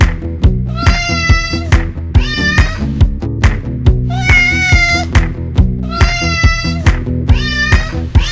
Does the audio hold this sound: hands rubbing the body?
no